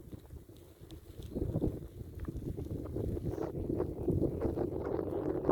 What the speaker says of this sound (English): It's a little bit windy today